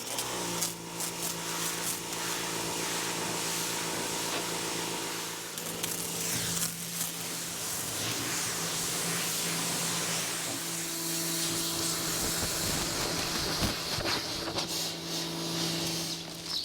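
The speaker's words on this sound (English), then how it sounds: "this pressure washer ends up being one of my most used tools" A pressure washer blasts a dirty, fertilizer-caked spreader clean, giving a continuous broadband hiss and spray with a steady motor hum underneath and shifting bursts as the jet hits metal.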